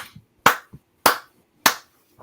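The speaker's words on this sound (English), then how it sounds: "Bill with the slow clap for Daniel Spencer." A slow clap at a wrestling event: three sharp, widely spaced hand claps about half a second apart, each followed by a faint softer tap, alone and fairly close.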